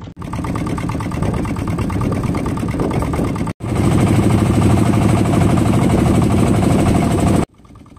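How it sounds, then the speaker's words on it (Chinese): A fishing boat's engine idles loudly and steadily close by, cuts out briefly, then returns as a louder, rougher throbbing drone before stopping, with no voices. "我们把机器启动了一下，然后就准备过去拉网了"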